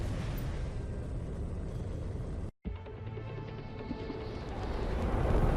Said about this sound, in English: There's a lot of red behind you. I think those are missiles.